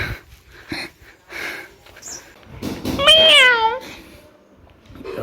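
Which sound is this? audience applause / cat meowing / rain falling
cat meowing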